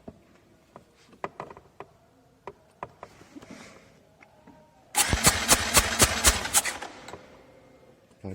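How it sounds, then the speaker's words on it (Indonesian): A motorcycle engine is cranked by its starter motor with the throttle held wide open for a compression test, a rapid, loud chugging churn bursting in midway after scattered quiet clicks and handling noises, then cutting off. "Kemudian kita starter sampai jarum tidak mau bergerak ke atas lagi ya."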